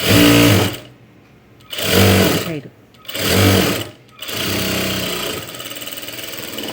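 A sewing machine stitches piping onto cloth folded along one side, running in three loud close-up bursts separated by short pauses, then settling into a steadier, slightly softer run.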